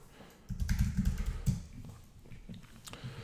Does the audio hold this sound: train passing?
no